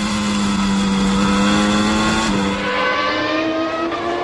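Formula One race cars from the 1993 season, including a Sauber, roar past at full throttle, a loud sustained engine whine sliding in pitch as they go by, with no speech.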